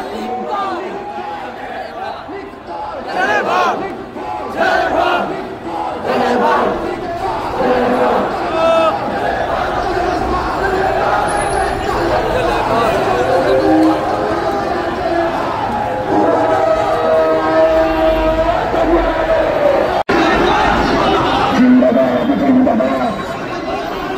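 A crowd at an Islami Andolan Bangladesh street protest march in Gopalganj chants slogans in loud, continuous, rough waves of massed voices, with general crowd babble mixed in throughout.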